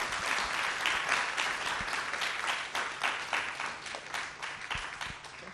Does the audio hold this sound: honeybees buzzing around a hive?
no